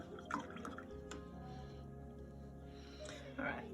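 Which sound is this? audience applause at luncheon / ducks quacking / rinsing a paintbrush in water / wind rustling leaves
rinsing a paintbrush in water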